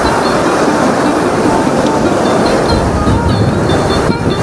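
Sea waves surging onto Puri's golden beach, a broad, steady roar of surf and wind close to the microphone, continuous and loud with no voices.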